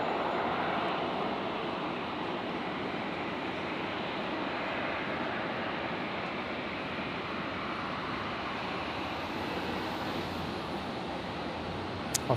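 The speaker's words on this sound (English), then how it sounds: "So Air Canada Dreamliner rolling now." Air Canada Dreamliner jet on its takeoff roll at Brisbane International Airport, a steady broadband engine roar that holds level throughout, with a faint rising whine and no voices.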